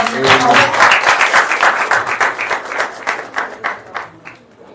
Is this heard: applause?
yes